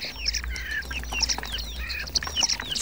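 Starlings call in a noisy, sociable group, a continuous tangle of whistles, chirps and squeaky rising and falling notes over a low background rumble, fairly close.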